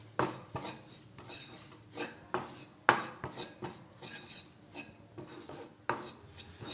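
A spoon scrapes and stirs maida flour into ghee in a metal pan while white sauce is made, giving repeated close, rhythmic scraping and clinking strokes with no talking.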